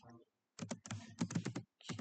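Quick bursts of keystrokes on a computer keyboard while typing an error message, close and distinct, in short clustered runs separated by brief pauses.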